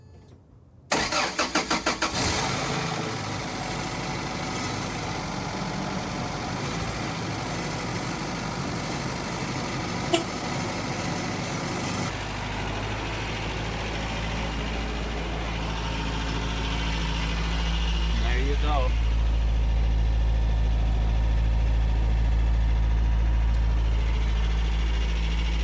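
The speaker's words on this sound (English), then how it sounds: "So we're gonna do a cold start." A 1993 Toyota 22RE four-cylinder engine cranks briefly and catches on a cold start, then settles into a steady, loud idle that deepens slightly as it warms, recorded close with no talking.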